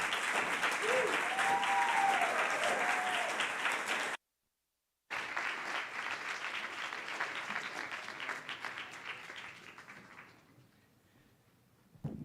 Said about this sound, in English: One more round of applause for Stella and Monica both.